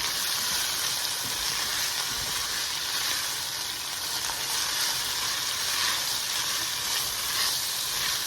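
Onions caramelizing in half a stick of butter in a pan for loaded baked potato soup, giving a loud, steady, continuous sizzle and hiss with no talk over it.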